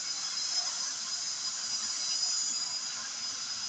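A Hornby class 47 model locomotive runs along its track with a steady, even whirring hiss that stays at the same level throughout, with no voices.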